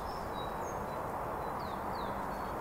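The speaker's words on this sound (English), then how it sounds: "it's becoming spring here and the birds are chipping." Birds chirp in a spring forest, several thin high calls and brief sweeping tweets scattered over a steady outdoor hiss, fairly faint and distant with no one talking.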